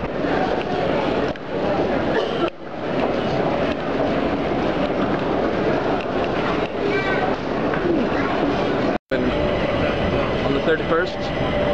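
A Stockholm subway train rides along with a loud, continuous rumble and rattle, brief dropouts and shifts in tone, while someone talks over the noise.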